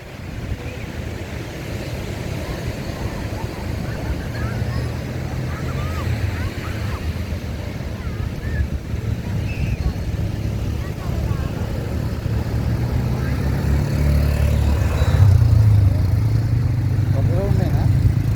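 An ATV bike's engine runs steadily on Chirala beach, a continuous low rumble mixed with wind and surf noise, with voices heard faintly in the background.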